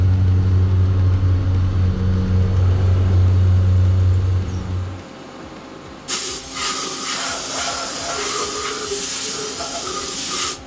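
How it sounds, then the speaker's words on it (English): KCFM 45 face mill cutter running on cast iron, a steady humming drone of the spindle and cut that stops abruptly, followed by a loud hissing spray of coolant or air. "While the cutter is still running, let's take a look at the spindle load quickly."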